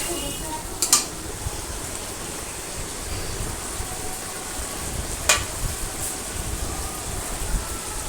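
A spice masala with tomato is stirred and fried in a pan, a low steady sizzle with two sharp metallic clinks of a utensil against the pan.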